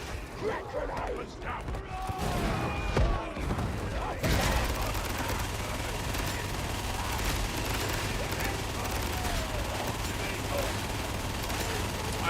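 Rapid gunfire and explosive bursts in the Warhammer 40,000 shooter Darktide, dense and continuous after an opening stretch of scattered shots, with voices calling out over the combat.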